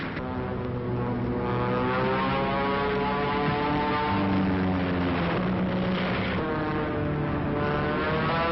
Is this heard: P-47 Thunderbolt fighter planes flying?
yes